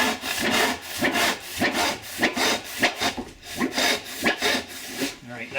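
A hand saw cuts through a pine board supported by a knee, making loud, close, rhythmic rasping strokes in a steady back-and-forth pattern, with no talking.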